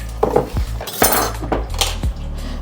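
Garlic goes into a cooking pot for arroz caldo with chicken, amid sharp metallic clinks and scrapes of utensils against the pot, several quick close knocks in uneven rhythm.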